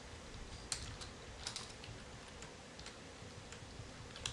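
Keys clack on a computer keyboard in quick irregular bursts, soft and fairly close, as text is entered during a programming session, with no talking.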